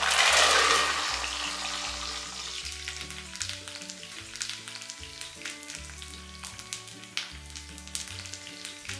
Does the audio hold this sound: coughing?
no